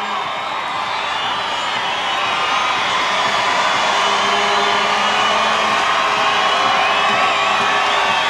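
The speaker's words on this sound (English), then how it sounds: "Listen to the crowd." A large crowd cheers and shouts along the route of the Philadelphia New Year's string band parade, a loud continuous roar with whoops and high voices rising over it throughout.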